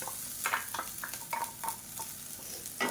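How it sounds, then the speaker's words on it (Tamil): A paste of ground coconut, green chili and ginger stir-fried in hot oil for kozhukattai, with a steady sizzle beneath scattered scraping taps of a spoon against the pan, close and continuous. "சேர்த்துட்டு நல்லா பரட்டி விட்டுக்கலாம் எண்ணெயில் நல்லா வதக்கியாச்சு"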